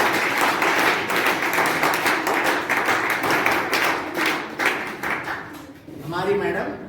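An audience at a college event claps in a steady patter of hand claps that carries for several seconds, with voices talking over it before the clapping fades out.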